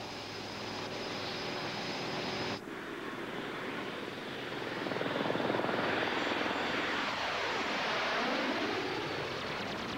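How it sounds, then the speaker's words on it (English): A compound helicopter roars loudly and continuously, its engine and rotor noise shifting in pitch as it passes by, with no voices. "The most common solution was the compound helicopter."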